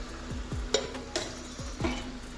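Oil heating in a pan for shahi murgh musallam gives a soft, quiet sizzle, with a few light clinks and scrapes of stirring at irregular moments.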